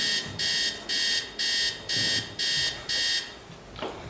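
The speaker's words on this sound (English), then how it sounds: "I love that video except for that alarm clock sound." An alarm clock rings in seven regular bursts of loud electronic beeping, each about half a second long with short gaps between.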